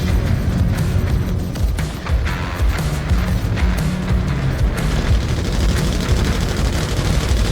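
Sustained heavy gunfire pounds an Idris capital ship in the Star Citizen video game: dense rapid bursts, booms and crashing impacts, loud and continuous throughout with no talking.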